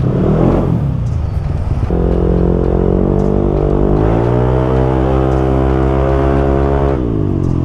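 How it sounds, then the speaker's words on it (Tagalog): A stock motorcycle on a test run, pushed up to about 130 km/h, its engine revving and pulling loud and close with rising pitch through the gears, a brief dip in between, and no talk over it. "Ito yung motor ni Pawe. Testing lang natin."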